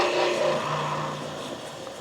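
Wheel spacers being reamed out for larger studs, giving a steady, loud broadband machining whir with a faint tonal whine that holds throughout and eases slightly toward the end, with no talking.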